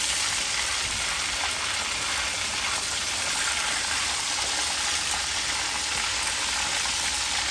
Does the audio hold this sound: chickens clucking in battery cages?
no